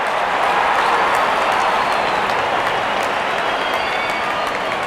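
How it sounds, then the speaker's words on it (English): A cricket crowd at an India vs West Indies match applauds a batsman reaching his fifty: loud, dense, continuous clapping and cheering that holds steady throughout. "good innings, and gets a grand applause"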